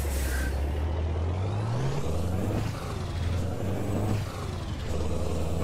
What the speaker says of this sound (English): We've got the sound mod back in again, so we've got the nice V8 rumble with the stacks.